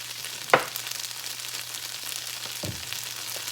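Microwaved instant rice frying in a pan, a steady soft sizzle with a sharp clatter near the start and a duller knock a couple of seconds later, close and fairly quiet.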